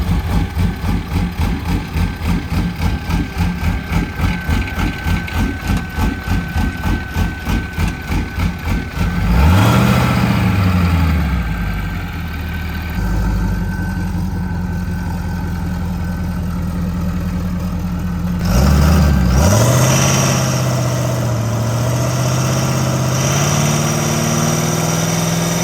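A 6.7 Powerstroke triple-turbo dragster engine cranks with a rapid rhythmic chug, fires up with a loud roar and settles into a rough idle, then gets blipped once more before idling again, heard up close without talk.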